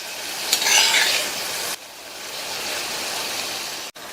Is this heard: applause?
no